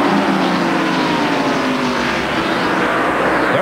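NASCAR stock cars, a Ford and a Chevrolet, roar past at the 1993 First Union 400 race, a loud continuous engine drone with shifting pitch as they go by close.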